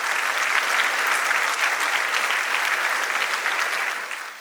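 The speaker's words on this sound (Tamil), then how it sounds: "ஒரு பெரிய அரங்கு நிறைந்த ஒரு கைத்தட்டல் கொடுத்துடலாம்." A packed hall audience gives sustained applause, thick and even clapping at close range that holds steady and then begins to fade in the final moment.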